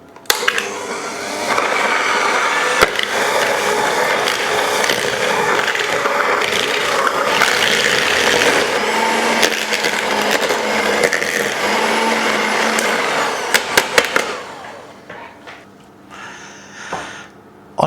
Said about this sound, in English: So I've switched to my stand mixer because that little one wasn't cutting it.